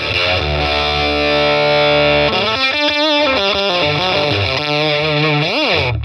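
Heavily overdriven electric guitar through a Boss Katana with a tweed amp simulation, everything turned up full, loud and saturated, a sustained chord giving way to fuzzy single notes with a bend near the end.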